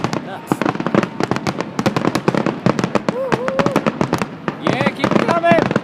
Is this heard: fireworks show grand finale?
yes